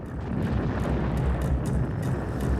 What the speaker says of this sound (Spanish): Y luego lo envuelve esta enorme explosión.